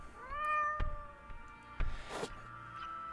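A cat meows in the video game Chronicles of the Wolf, a few rising and falling calls near the start, then sharp thumps and a burst of game noise over a faint background hum.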